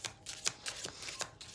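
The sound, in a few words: tarot cards being drawn and shuffled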